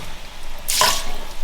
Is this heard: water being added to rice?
yes